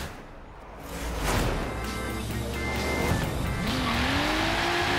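Race car engines revving and rising in pitch with tires squealing at the start of a first race in Forza Horizon 3, the roar building loud and continuous.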